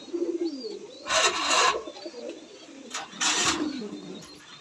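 Low cooing of black Bombay pigeons on a fancy pigeon farm murmurs steadily in the background, broken by two loud, rustling bursts of noise close by.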